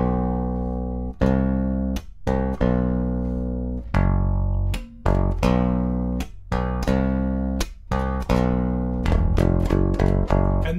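A bass guitar plays the pre-chorus of a song as a series of long sustained notes one after another, each ringing out and fading before the next pluck.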